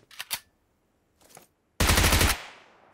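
Gunfire in the PUBG Mobile video game: two short bursts of automatic fire, then a quieter burst, followed by a loud sustained volley lasting about half a second that decays into a ringing tail.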